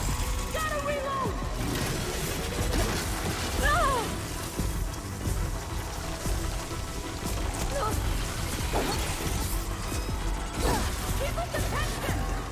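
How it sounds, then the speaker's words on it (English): A weapon being reloaded in the video game Horizon Forbidden West: mechanical clicks and ratcheting over a continuous rain-like ambient bed, with a voice speaking over the game sounds. "Gotta reload!"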